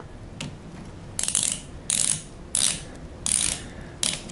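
A Boa ratchet dial on a paramotor harness is turned in repeated short bursts of crisp clicking, about five close, evenly spaced ratcheting runs over a quiet background.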